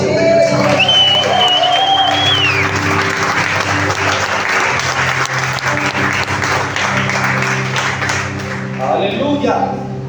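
Church congregation applauding during a sermon, steady dense clapping throughout, sustained organ or keyboard chords beneath and a preacher's voice rising over it near the start and end.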